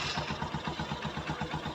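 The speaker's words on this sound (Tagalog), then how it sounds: "Panay ang redondo, pero yung makina ayaw gumana." Honda TMX Supremo motorcycle engine with a dirty air filter, cranking hard and struggling to start, giving a steady, rapid pulsing churn close by, with no talk over it.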